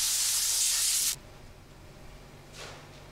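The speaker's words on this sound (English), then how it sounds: "I go around with this high pressure air hose and I blow off all the dust" A high pressure air hose blows dust off surfaces in a barn after shell blasting, a loud hissing blast for about a second, then a fainter short hiss a moment later.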